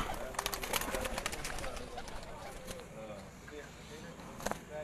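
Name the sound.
pigeon cooing and flapping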